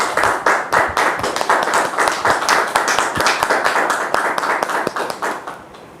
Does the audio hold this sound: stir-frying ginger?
no